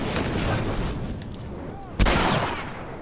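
Gunfire in the video game The Last of Us Remastered during a sniper attack, with a dense burst of shots and a sharp, loud report near the end over steady game noise.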